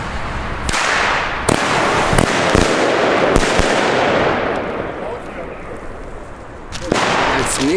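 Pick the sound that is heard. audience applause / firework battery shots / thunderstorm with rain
firework battery shots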